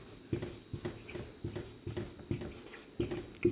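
A pen scratches out a maths question on paper in steady, evenly spaced strokes, close and quiet, with no talking over it.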